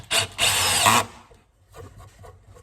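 A DeWalt Extreme 12V 5-in-1 driver sinks a 1.25-inch fastener into wood, giving two close, loud bursts of motor whine, a short one then a longer sustained run, followed by quieter handling and rustling.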